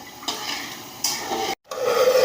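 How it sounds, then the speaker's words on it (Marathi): Thickening sugar syrup is stirred in a pan, producing a dense, close scraping and bubbling hiss in a few sweeping strokes, broken by a brief silent gap. "हे बघा असं पाक हलवत राहायचं आहे आणि शिजू द्यायचा आहे"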